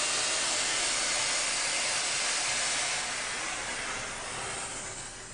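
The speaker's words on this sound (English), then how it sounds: "you can get a large volume of steam to come out." An SC3000 steam cleaner lets out a strong, sustained hiss of steam, loud and steady for several seconds before easing slightly toward the end, with no voices over it.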